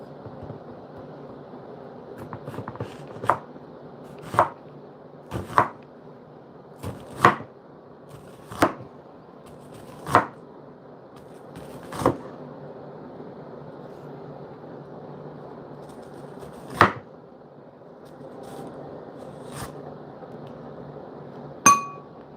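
Knife chopping an onion on a board in a kitchen, a dozen or so sharp, separate chops at uneven spacing over a quiet background.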